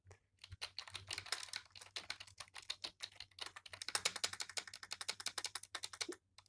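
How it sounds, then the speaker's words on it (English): Rapid one-handed typing on a quiet mass-produced office keyboard, soft dense key clicks in irregular bursts with short pauses, faint and close with no talking. "This is how a quiet keyboard sounds"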